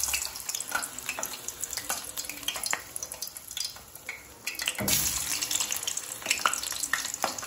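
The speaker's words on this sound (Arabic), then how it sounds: "ودلوقتي يا جماعه الزيت سخن، هننزل بقى بالطعميه" Falafel patties fry in hot oil with a steady close sizzle and bubbling crackle that swells loudly about halfway through as more oil spatters.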